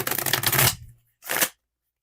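A tarot deck of cards being shuffled, two short riffling bursts, the first longer and fuller, then a brief second flutter, close and clear with no talk.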